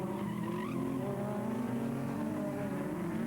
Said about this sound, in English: There he is in the white Suzuki.